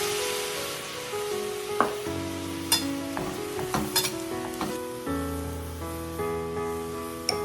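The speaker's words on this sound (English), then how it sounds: "I'm going to add a little white wine to it." White wine hits a hot pan of zucchini noodles, giving a steady close sizzle with clinks of a utensil and a few scraping stirs, and music plays underneath throughout.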